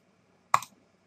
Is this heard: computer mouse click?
yes